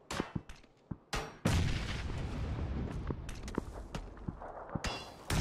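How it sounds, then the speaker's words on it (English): Grenade blasts and gunfire in PUBG on the Erangel map: sharp distant shots crack early, then a heavy booming explosion rolls on with sustained rumble, followed by scattered further reports. "Is that a grenade?"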